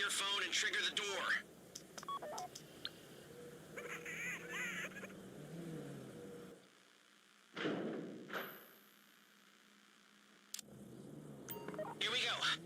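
Keypad tones from a phone dialed in a crime heist video game to open a vault door, a short run of beeps amid game noise and background chatter, followed by thuds and a mechanical whoosh.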